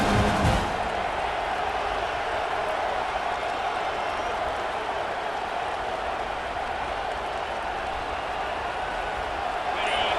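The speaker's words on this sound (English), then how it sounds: "this home crowd is fired up and ready to make a difference today" A home stadium crowd cheering in EA Sports College Football 26, a dense, steady roar that holds loud throughout after a brief sharper burst at the start, with a commentator's voice heard faintly over it.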